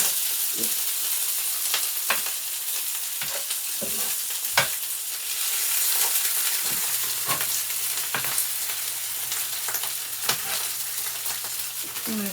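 Sourdough tortilla frying in a pan, a steady soft sizzle and crackle with repeated sharp pops and spatula scrapes, quite close, and a faint low hum joining partway through.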